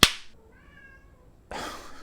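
A cat meows once in a short tonal call between two sharp bursts of noise, the first a sudden loud crack at the start, the second a harsher rasp near the end, with no talking.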